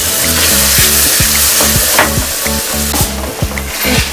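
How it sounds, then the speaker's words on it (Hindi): Tomato puree sizzling and frying in a spiced masala of turmeric, coriander powder and chopped green chillies, with a steady loud sizzle, a repeating stirring rhythm and no voices. "मसाला भुनने के बाद उसमें डालेंगे टमाटर की प्यूरी,"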